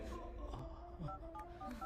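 A phone is dialed to call the police, with a quick run of short keypad tones and soft handling noises, faint and close, and no talking.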